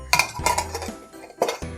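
Small stainless steel toy cooking pots are handled, knocking together in a few bright, close metallic clinks and clatters with brief pauses between.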